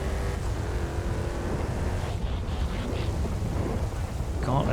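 Gauntlet Hellhound muscle car driving in GTA, a continuous deep engine roar with rumbling exhaust throughout a lap, steady and moderately loud, with a brief faint voice near the end.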